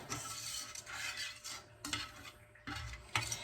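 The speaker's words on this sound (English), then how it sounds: "Give this a stir." Steak sauce being stirred in a pan, with soft scraping and light clinks of a utensil against the metal, steady and close over a faint background hiss, no talking.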